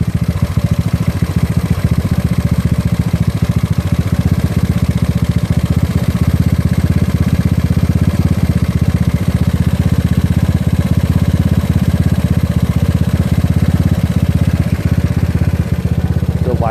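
GY6 scooter engine fitted with an OKO PWK 30mm carburetor idles loudly and steadily nearby, a continuous low rumble with a slight uneven throb as the mixture is adjusted.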